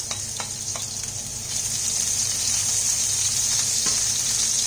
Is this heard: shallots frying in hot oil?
yes